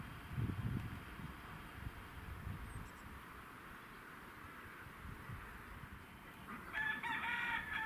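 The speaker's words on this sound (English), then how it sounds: "Over here we have the hens, very vocal." Hens cluck and a rooster crows at a farmyard near Warland Reservoir in West Yorkshire, faint and a little distant over soft ambient noise, with a brighter call near the end.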